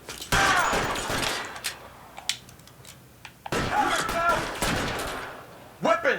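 Bursts of gunfire in the video game LA Noire, sharp shots clustered near the start and again midway, mixed with game dialogue and crashes.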